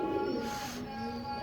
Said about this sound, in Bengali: এটা হলো সবুজ গলা কবুতর